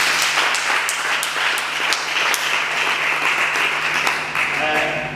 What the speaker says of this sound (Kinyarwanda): mureke tubakomera amashyi.